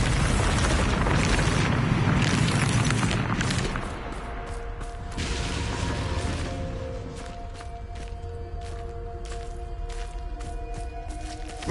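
A Bombarda spell goes off in Hogwarts Legacy with a heavy booming blast that rumbles loudly for a few seconds, then tails into a lower crackling, rattling decay with scattered debris-like clicks.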